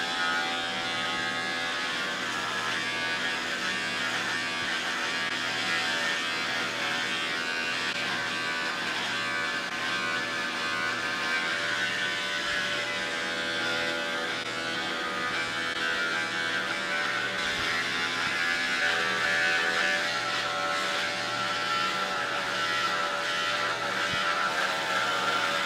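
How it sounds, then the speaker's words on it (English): Electric clippers shave the back of a person's head, giving a steady, close buzzing hum that runs continuously with slight variations as the blades move through hair. "Shave the back of my head."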